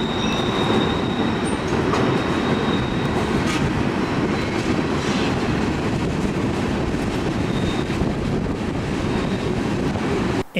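A Canadian Pacific freight train rolls past close by, a loud continuous rumble of wheels and cars with occasional squeals, steady throughout with some wind buffeting and no talk.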